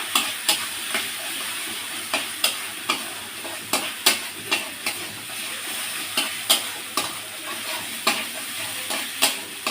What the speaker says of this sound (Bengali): এবার লাস্ট এই মশলার ভিতরে দিয়ে দেবো কাঠবাদাম বাটা দিয়ে আরেকটু নেড়ে নেবো